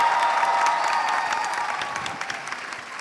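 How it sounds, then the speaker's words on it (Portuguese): Audience applause at a panel during the Rio book fair, a steady round of many hands clapping in a hall that holds strong for about two seconds and then gradually thins and fades. "uma salva de palmas"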